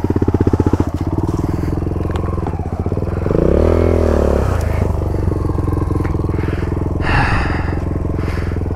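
A heavy dirt bike engine revs and strains while crossing a creek, a loud close throb that rises into a sustained higher rev midway, with clattering bursts near the end.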